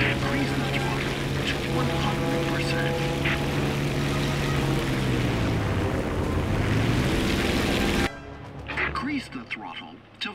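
Propeller plane engine in War Thunder drones steadily at a loud, even pitch for about eight seconds, with a low tone shifting slightly as the aircraft maneuvers, then cuts to a quieter, sparser passage near the end; a voice talks over it.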